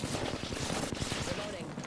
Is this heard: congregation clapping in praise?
no